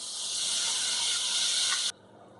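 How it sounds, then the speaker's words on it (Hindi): Half a cup of water pours from a cup onto sugar in a saucepan for jalebi syrup, a steady close hissing splash lasting about two seconds before stopping abruptly. "शीरा बनाने के लिए सॉस पैन में 1 कप हम चीनी ऐड करेंगे, आधा कप पानी"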